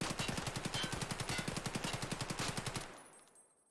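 A modified AK fires fully automatic in Escape from Tarkov, a loud, rapid, even stream of about twenty-five close shots that stops abruptly and leaves a short fading tail, with no voices.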